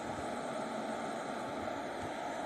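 Steady airplane engine thrust in the Infinite Flight simulator video game, a constant broad roar that runs unbroken and fairly loud throughout with no talk over it.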